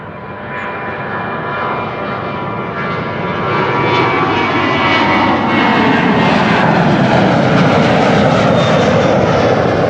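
A Ryanair jet airliner departs Amsterdam Schiphol Airport, its engine roar loud and close, building steadily into a dense, sustained rumble with a rising whine over ten seconds.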